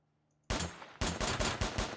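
Several loud, close gunshots from a video game police emergency-response scenario, one sharp blast followed after a brief pause by a rapid string of four or five shots.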